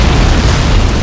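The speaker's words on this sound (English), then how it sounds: "Hopefully the explosion from the M8 will be large enough to take out." An M8 armored car explodes in the video game Men of War: Assault Squad, a loud, dense, continuous boom filling a short burst of roaring blast noise.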